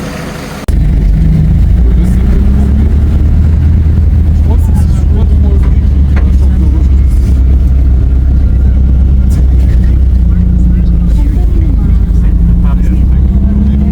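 A vehicle engine drones loud and steady from inside, on a rough road ride in Tanay, Rizal, in the dark early morning, with muffled voices under the rumble.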